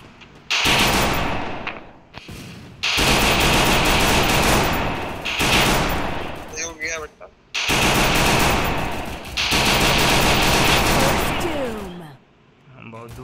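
Automatic weapon fire in the Free Fire battle royale game, with long loud sustained bursts separated by brief gaps, interspersed with a few short rattles, while a player talks excitedly underneath.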